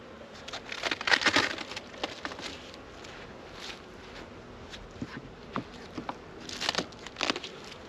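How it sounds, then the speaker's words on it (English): Honeybees in a hive during a spring inspection in Michigan, with a soft steady buzzing and scattered crackly bursts from movement near the frames, fairly close and with no talking. "Alright, so all the bees seem to be to one side."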